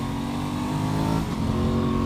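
An Aprilia Tuono 660 motorcycle engine pulls hard under acceleration, a dense, steady mid-pitched drone that holds at constant loudness throughout, close and alone with no voices.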